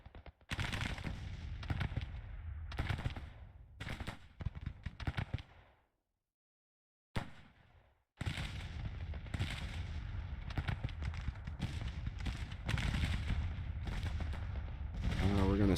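Artillery guns of the Confederate 1864 campaign firing in the strategy game Grand Tactician at the Battle of Fredericksburg, with repeated booming shots and rattling volleys, a brief silent gap, then a sustained dense roar of battle.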